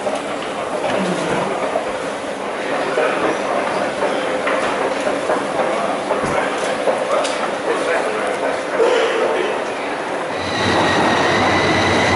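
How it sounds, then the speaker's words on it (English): A Heathrow Express train rolls into the station with a loud, continuous rumble and faint wheel squeal, ending in a hiss of brakes or doors. "Here's the Heathrow Express."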